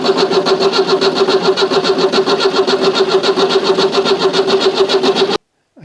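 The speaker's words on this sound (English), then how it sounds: "I'm just gonna give it a quick bump on the starter to see if it is in neutral" A car engine cranks steadily on the starter in a garage, a fast even rhythmic churning that stays loud and close for over five seconds, then cuts off abruptly into silence.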